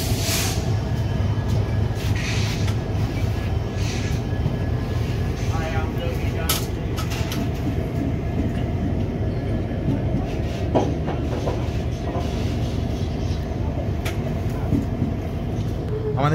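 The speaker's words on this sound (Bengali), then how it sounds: "আমাদের ট্রেন এখন অন টাইম ছেড়ে বেরোচ্ছে হাওড়া স্টেশন থেকে" Duranto Express 12245 pulls out of Howrah station, a steady heavy rumble of rolling carriages with clicks and clanks throughout, heard from inside the train.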